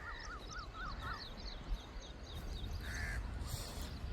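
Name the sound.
crows cawing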